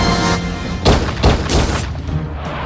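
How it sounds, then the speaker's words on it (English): Several sharp, loud gunshots burst out in a movie action scene during a night assassination attempt, a few heavy booming reports spaced about half a second apart over a dramatic background. "Gunshots ring out and Smith's car is drifted into a nearby house"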